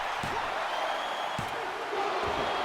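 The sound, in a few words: crowd chanting in WWE 2K24 video game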